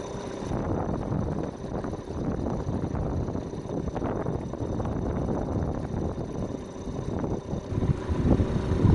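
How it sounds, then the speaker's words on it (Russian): Strong wind on a northern river buffets the microphone in a continuous low roar, loud and steady throughout with gusts swelling near the end, and no voices. "Такой ветер."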